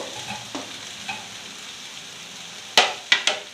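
Eggplant goes into a pan of frying potatoes and onion, giving a soft continuous sizzle with faint stirring scrapes and a few sharp clinks of a utensil against the pan near the end.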